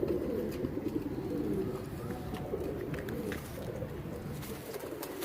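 Iraqi pigeons, a crested breed, coo steadily at close range in a loft, a dense low burbling that runs continuously with faint chirps above it.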